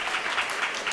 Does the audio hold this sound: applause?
yes